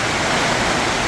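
A storm's downpour roars without a break on a tin roof, loud, close and steady across a short stretch, with nobody talking.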